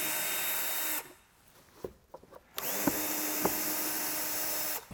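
A power drill whines loudly and steadily, cuts out for over a second amid a few faint clicks and knocks, then spins back up and runs continuously to the end.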